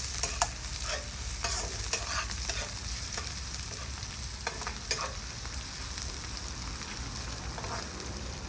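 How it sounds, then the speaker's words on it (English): Chopped pepper and celery fry over medium heat in a pot, giving a constant close sizzle broken by periodic stirring scrapes and clicks. "Then I add my pepper and celery to it. I'll let this fry it up for a little."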